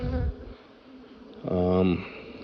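Honey bees around an open hive being moved give a close, droning buzz for about half a second, over a faint background hum and small handling sounds.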